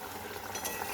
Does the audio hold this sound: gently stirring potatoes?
yes